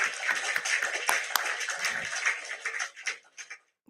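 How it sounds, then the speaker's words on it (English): An outdoor rally crowd claps in a dense patter that thins to a few scattered claps near the end, with no clear talk over it. "let's clap for him"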